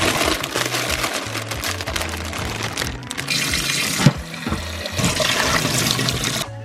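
Pre-washed spinach is rinsed under a running tap, with a steady rush of water near the sink and a low hum behind it, broken by a brief knock partway through.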